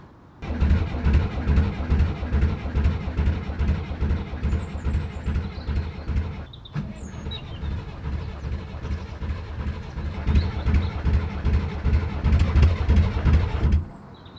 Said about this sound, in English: it's asking a bit much of this poor little engine